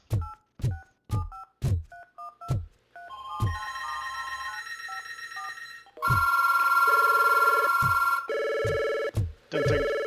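A desk telephone setup gives a string of short dial-tone blips, then several sustained ringing and beeping tones of shifting pitch, loud and close, with no voices.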